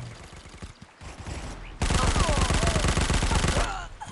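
Automatic gunfire rattles in the Guns of Boom mobile shooter game: a short burst first, then a loud, sustained rapid-fire stream lasting about two seconds before it cuts off.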